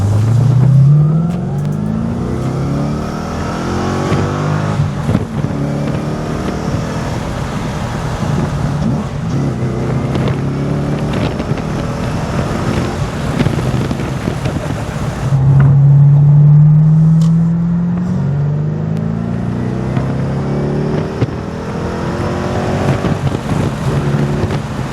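A V8-swapped manual Lexus IS300 wagon with an aftermarket intake, engine revving up and down repeatedly with throttle blips and gear changes, a loud, close, rumbling drone heard from inside while driving.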